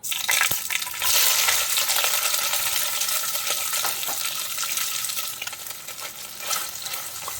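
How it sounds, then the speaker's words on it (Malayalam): Soya chunks deep frying in hot oil give a loud, steady, close sizzle with crackling pops that carries through the whole stretch and eases off slightly toward the end. "നേരിട്ട് എണ്ണയിലിട്ടങ്ങ് പൊരിച്ചെടുക്കുവാണേ"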